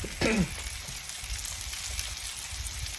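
Shallots sautéing in a pan give a steady, soft crackling sizzle throughout, with a brief brighter clatter near the start and no speech over it.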